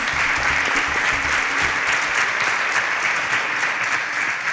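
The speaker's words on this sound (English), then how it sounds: "Round of applause." A studio audience at a televised competition show breaks into loud, sustained applause close by. The clapping stays dense and even throughout, with no talking over it.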